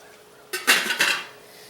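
Metal paella pan lid handled on a hot pan, giving a few quick clanks and scrapes of metal against metal in close succession, then a brief ringing tail before quiet.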